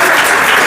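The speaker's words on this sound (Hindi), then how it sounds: "ताली बजा दो।" Classmates clap together in a classroom quiz, a short burst of dense, steady applause filling the whole moment at close range.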